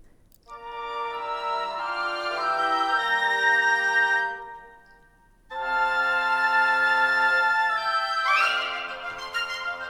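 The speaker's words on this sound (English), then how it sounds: "Only the woodwinds sound like this." An orchestral mockup with woodwinds playing one line per instrument sounds in two sustained, harmonically rich phrases separated by a short pause. The playing is clear and alone, with no voices.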